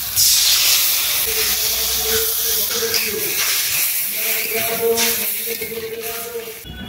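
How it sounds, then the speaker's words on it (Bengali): A hot pan of village fish curry hisses and sizzles as spice paste of turmeric, chilli powder, mustard and cumin mixed with water goes in, loud at first and fading into a steady bubbling sizzle. "লঙ্কা গুঁড়ো, সর্ষে এবং জিরে জলের সঙ্গে গুলিয়ে জলটা দিয়ে দেব।"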